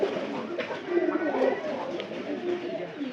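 Pigeons settled inside their new pigeon house coo in a steady low murmur, close and continuous, while someone talks over the flock.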